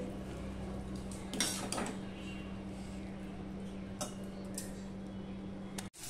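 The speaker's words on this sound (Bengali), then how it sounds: "সার্ভ করার জন্য একটা ডিশে তুলে নিচ্ছি।" Fish head and vegetable curry scooped onto a serving dish, a few soft scrapes and clinks of a spoon against metal and crockery over a steady low hum, with a louder clatter near the end.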